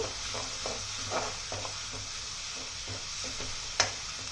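Asafoetida sizzles in hot oil in a pan while cooking a raw plantain curry, a soft continuous frying hiss broken by light stirring scrapes and one sharp utensil clink near the end.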